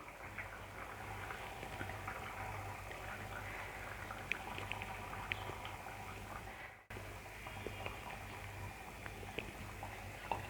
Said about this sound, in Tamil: பாருங்கள், குழம்பு நல்லா கொதிக்குது.